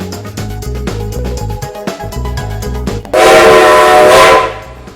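Strasburg Railroad steam train in Pennsylvania, heard as loud rhythmic chugging close by, then a long, piercing whistle blast that sounds for over a second before cutting off.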